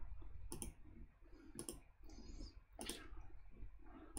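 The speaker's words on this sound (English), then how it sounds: "Actually, I'm gonna keep clicking," Computer mouse clicks while playing a Java snake game, three or four crisp single clicks spaced about a second apart, close and clear over a quiet background.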